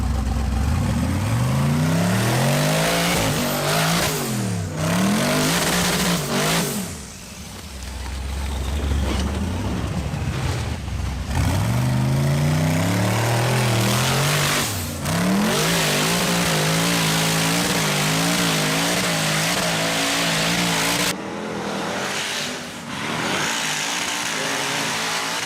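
A high-horsepower off-road rig with a Pro Charger climbs a steep hill, its engine revving loudly in repeated surges and dips with rising and falling pitch over a sustained climb.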